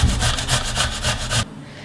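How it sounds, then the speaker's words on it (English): Cucumber rubs against a kitchen grater in quick, close rasping strokes, about eight rhythmic scrapes, then stops abruptly. "I'm gonna grate some cucumber."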